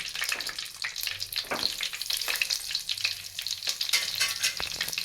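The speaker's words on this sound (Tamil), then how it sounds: "எல்லாம் போட்டு லைட்டாக பொரிட்டோம்." Fenugreek, fennel seeds and curry leaves frying lightly in hot oil for a crab dish, a close, continuous sizzle and crackle with scattered pops and stirring, no voices.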